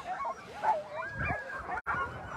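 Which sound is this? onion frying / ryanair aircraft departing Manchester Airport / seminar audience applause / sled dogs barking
sled dogs barking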